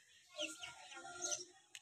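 Domestic chickens being fed on a home balcony give faint, scattered clucks and chirpy calls across a quiet moment, with no one talking.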